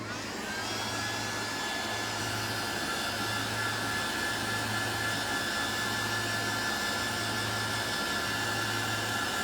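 A blower dries white paint on a paint-stick wood block, giving a steady, loud whirring roar with a faintly pulsing low hum that runs unbroken throughout.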